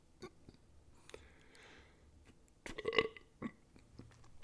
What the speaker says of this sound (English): Excuse me, I just burped.